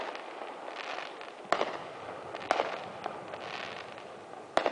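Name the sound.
fireworks grand finale exploding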